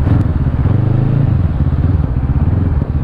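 A Bristol Bobber 700 motorcycle rides through heavy city traffic on EDSA, its steady engine drone and low exhaust rumble loud and continuous throughout, with no talking.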